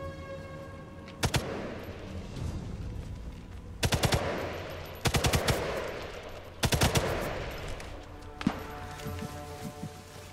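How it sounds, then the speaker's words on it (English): MG42 machine gun fire in the video game Sniper Elite 5, heard as several short, rapid automatic bursts with pauses between them over a low background of game ambience. "I have the MG42. I wanted to use it."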